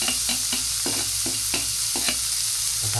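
Garlic and onions sauté in a hot pan with a steady close sizzle, broken by regular scraping stirs of a spatula about every quarter second, no voices.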